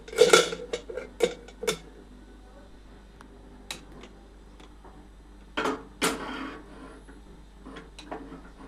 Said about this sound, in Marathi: आता आपण कुकरचं झाकण लावून घेऊ.